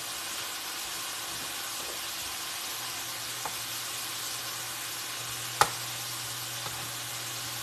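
Lemon pepper shrimp sizzle steadily in a hot pan, a soft continuous frying hiss with a few faint clinks and scrapes as the pieces are turned, one sharper tap standing out near the end.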